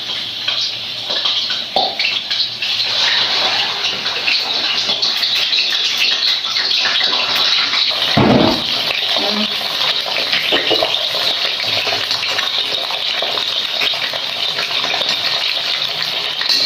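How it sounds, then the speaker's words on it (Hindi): Chicken meat frying in hot oil in a karahi for Peshawari charsi karahi, a loud continuous sizzle and crackle that carries on steadily, with a brief clatter partway through. "चिकन को हम अब फ्राई करेंगे इसके कलर चेंज होने तक"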